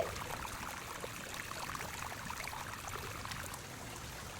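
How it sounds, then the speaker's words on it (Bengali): Fresh flat beans are rinsed and cleaned in water in a home kitchen, giving a soft, continuous splashing and trickling wash that stays faint and steady throughout, with no voices. "এ পর্যায়ে সিমগুলো ভালোভাবে পরিষ্কার করে ধুয়ে শিরগুলো বেছে ফেলে দিচ্ছি"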